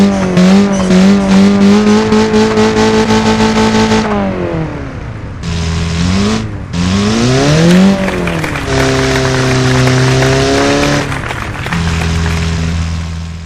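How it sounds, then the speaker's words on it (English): A Russian Volkov 1200 car engine revving in the BeamNG.drive racing game, loud and close, its pitch repeatedly climbing and dropping through several throttle blips with short pauses between, no talking. "the Volkov 1200 from Russia. Let's hear the engine from the motherland."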